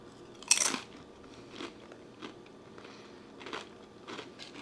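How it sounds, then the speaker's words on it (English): A crunchy tortilla chip dipped in salsa with crushed tomatoes, pineapple and jalapeño is bitten with one sharp loud crunch, followed by several softer chewing crunches close to the mouth. "I'm gonna try one of those tortilla chips and see how it goes with this stuff."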